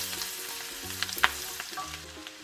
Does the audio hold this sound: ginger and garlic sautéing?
yes